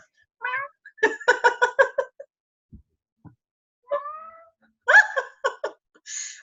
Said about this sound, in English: I apologize if you can hear my cat. He is like trying to get in this room.